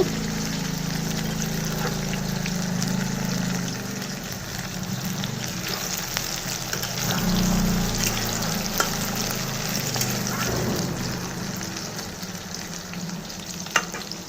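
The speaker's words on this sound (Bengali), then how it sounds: "চলো দেখি আমার বেগুনটা কতটুক ভাজা হয়েছে" Eggplant coated in spice paste sizzles steadily as it fries in hot oil, a continuous close crackling hiss that runs throughout with no talk.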